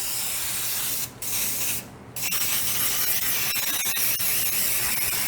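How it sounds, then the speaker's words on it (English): Cooking spray hisses from an aerosol can into a cake pan, a loud, close, continuous spray broken by two short pauses, with faint clicks and scrapes near the end. "Now we'll take the other pan and start spraying that all the way around."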